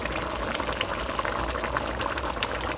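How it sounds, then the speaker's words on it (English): Thai red curry with bamboo shoots bubbles in a pot at a simmer, giving a dense, even hiss and gurgle that stays close and constant throughout. "So you can let this simmer as long as you wish."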